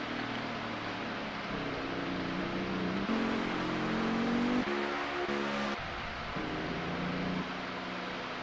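Race cars heading down pit road in a racing video game, a steady engine drone with shifting pitch as cars pass and rev, continuous and moderately loud with no talk.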